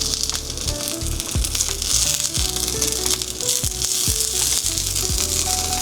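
A burrito tortilla fries in an electric skillet with a steady, close sizzle and crackle, plus occasional light scraping or tapping throughout.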